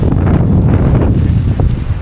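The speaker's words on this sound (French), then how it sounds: "il y a un vent de folie" Strong wind roars steadily across a microphone at a harbour on the Gulf of Morbihan, a loud, dense buffeting rush with no voices.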